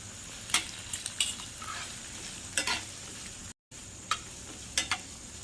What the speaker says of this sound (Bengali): এক মিনিট নেড়ে নেব বেশি নাড়ব না